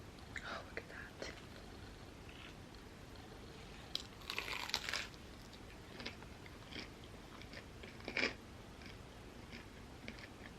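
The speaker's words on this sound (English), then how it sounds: "I'm gonna try the donut grilled cheese." Close, crunchy bites and chewing on a vegan donut grilled cheese fried in vegan butter with a crystallized sugar glaze, with soft whispery mouth sounds and a few louder crunches standing out.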